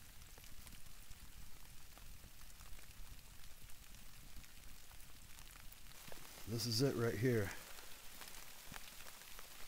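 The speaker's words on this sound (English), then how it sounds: "I can hear the droplets of rain hitting the top of the shelter" Light raindrops tapping steadily on the roof of a lean-to shelter at a campsite, soft and close, with a person speaking briefly partway through.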